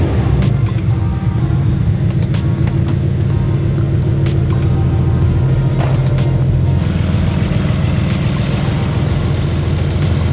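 A BMW M4 Competition fitted with a big turbo fires up and settles into a steady, loud idle close by, with a rough low rumble and a shift in tone partway through; no talking.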